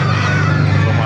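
Poultry calls loudly at a live animal market in Baliuag, a dense, honking clamor of birds heard up close over a steady low background hum.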